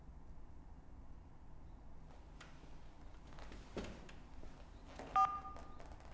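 A single short telephone keypad tone sounds as button 1 is pressed, a brief clean double beep after several seconds of quiet room noise and a couple of faint clicks.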